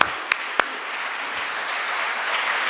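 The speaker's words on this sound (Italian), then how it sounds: "non per interrompere l'applauso meritatissimo" An audience applauds at the end of a public lecture in a city talk series, steady, dense clapping filling the hall, with two sharper claps standing out near the start and no talk over it.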